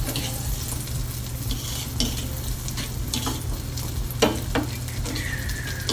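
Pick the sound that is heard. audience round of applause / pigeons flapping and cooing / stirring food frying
stirring food frying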